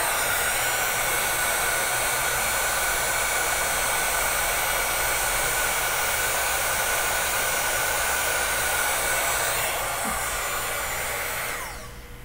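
A heat gun blows a loud, steady whooshing roar while heating embossing powder on a Christmas ornament, running continuously before tapering off near the end.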